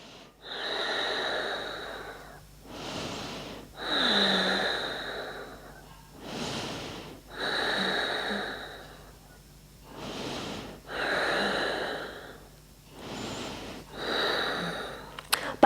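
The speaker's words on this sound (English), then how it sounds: "5 breaths." Slow, deep breaths during a yoga pose, with six long inhale and exhale cycles of airy, rushing sound, each lasting about two seconds. They are close and fairly loud, with quiet gaps between them and no talking.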